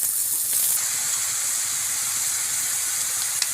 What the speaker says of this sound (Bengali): এখানে থোড় দিয়ে দিব।